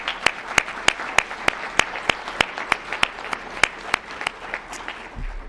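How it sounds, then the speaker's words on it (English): A crowd at a Martin Luther King Jr. birthday celebration applauds. One close, loud clapper keeps a steady, quick beat over the softer wash of many hands, and the applause thins out toward the end. "Let's start out by giving everybody that came out here a big round of applause."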